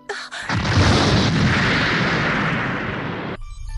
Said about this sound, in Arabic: نشب حريق كبير في مبنى المشفى بسبب انفجار وحدة توليد الطاقة هناك.